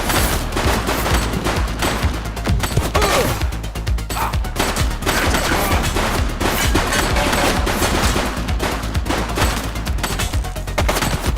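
Rapid, continuous gunfire fills a police shooter video game firefight in The Precinct, with loud overlapping bursts and fusillades hammering without pause.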